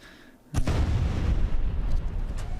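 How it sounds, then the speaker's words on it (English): Cannons on a ship in the video game Space Engineers firing, a sudden deep explosive boom followed by sustained heavy rumbling blasts, loud and close. "we've got the cannons there, which just make the biggest noise in the world"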